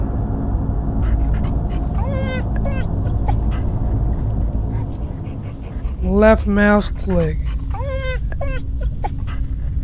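A dog in the Fears to Fathom horror game whimpers and yips in short, high, thin cries: a few near the start and a louder cluster toward the end, over steady background ambience while a player talks.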